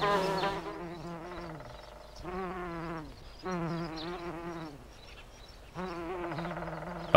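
Insects buzzing around wild orchids in an Israeli Mediterranean landscape, a close, droning hum that swells and fades in several passes with short pauses between them.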